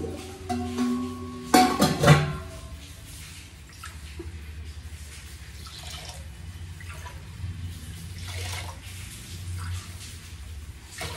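Water is poured from a glass into a pot of rice and lentils in a home kitchen, with several short splashing pours close by, then quieter trickles and drips.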